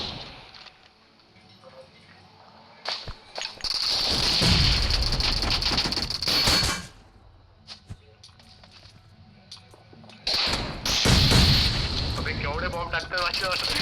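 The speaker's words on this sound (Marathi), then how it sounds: "केवढे बॉम्ब टाकतात वाटलं." Bombs and explosions rumble in BGMI, a team deathmatch mobile battle game, in two long, heavy booming stretches separated by a quieter gap, with voices talking in between.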